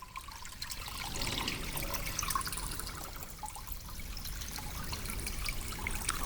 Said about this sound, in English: See the culverts? Just a trickle of water.